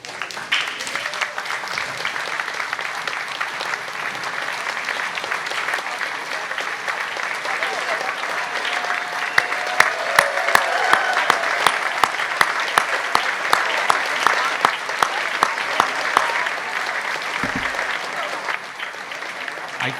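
An audience at a veterans tribute gives long, sustained applause as veterans stand, an even wash of clapping that swells in the middle with sharp individual claps standing out, then eases slightly toward the end.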